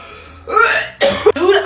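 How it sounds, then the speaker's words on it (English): A person coughs several times in short, harsh bursts at close range, with rough breathy textures between the hacking sounds and no speech. "I'm tired of hearing you cough."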